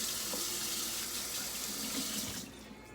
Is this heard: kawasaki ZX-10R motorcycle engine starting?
no